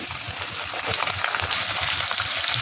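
Peanuts roast in hot oil in a pan for tamarind pulihora, a dense continuous sizzle and crackle heard up close with no talking.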